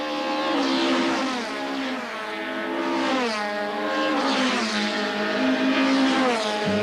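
1998 touring cars, among them a BP Nissan Primera, race at East London, their engines wailing loudly as revs rise and fall through gear changes while several cars pass close.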